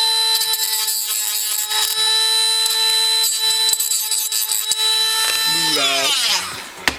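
A power tool trims posts during a wheel swap on a Nissan Skyline, making a loud, steady high-pitched whine that falls away as it spins down near the end. Speech can be heard faintly under it.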